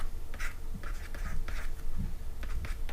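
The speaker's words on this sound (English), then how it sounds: "So let's write that here." Pen writing by hand on a math practice paper, short scratchy strokes in an irregular rhythm close up, with faint background noise and no talk.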